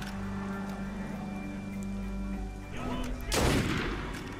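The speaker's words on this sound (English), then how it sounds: "About to get Arno's pistol to your face." Video game gunfire in Assassin's Creed Unity, where a steady hum of game ambience is broken near the end by one loud, sharp pistol shot with a short ringing decay.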